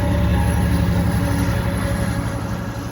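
An EXO commuter train rolls past at St Henri during a snowstorm, a loud continuous rumble of wheels on rail with faint squealing and steady rhythmic clatter, heard close and alone.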